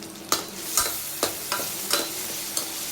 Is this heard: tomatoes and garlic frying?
yes